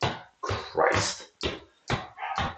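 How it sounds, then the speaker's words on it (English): A pet pug barks indoors in a burst of six sharp, close, loud yaps with short gaps, some with a whiny edge. "I gotta take the dog out of this. I hear her barking."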